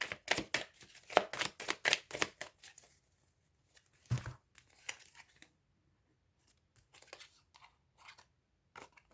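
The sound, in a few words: handling tarot cards, covering a card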